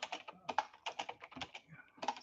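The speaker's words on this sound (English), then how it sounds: "I'm typing and talking at the same time" Someone typing on a computer keyboard, a close, fast run of uneven clicking keystrokes in short bursts with brief pauses, alongside faint talking.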